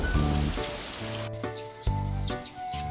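Summer thunderstorm rain patters steadily on surfaces, with a dense wash of drops beneath a bed of soft musical tones and faint bird calls.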